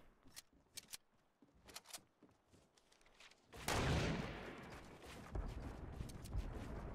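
Fortnite Battle Royale gunfire: a few sharp, separate shots in the first seconds, then a loud dense burst of firing and blasts that holds for the rest of the clip.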